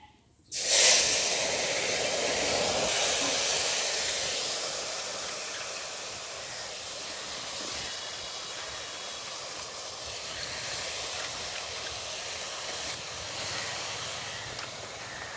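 A steady, loud hiss of steam and bubbling water as taro leaves boil in a little water in a wok, starting abruptly and continuing throughout, easing slightly later on, with no voices.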